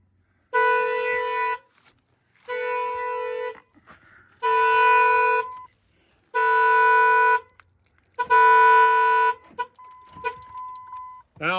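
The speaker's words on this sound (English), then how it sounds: "Of course, my alarm's gonna go off." A truck's alarm sounds as five loud, steady horn-like blasts of about a second each, separated by short pauses, ending with a fainter tone and a clatter.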